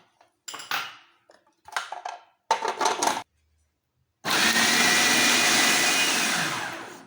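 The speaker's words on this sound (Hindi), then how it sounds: "प्याज चॉप करेंगे और सब्ज़ मिर्चें चॉप करेंगे।" Onions and green chillies being chopped on a board, a few short bursts of knife strokes separated by pauses, then a long, steady, loud rush of noise near the end.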